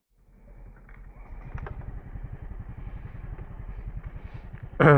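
A motorcycle engine warming up on a rainy morning, a steady low idling rumble with fine rhythmic pulses that grows slightly louder, ending in a brief loud clatter.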